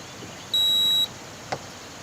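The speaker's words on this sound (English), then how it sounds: "I heard it beep 1 time" A single short electronic beep from an RV camper's keyless entry door lock sounds clearly, followed by a faint soft click.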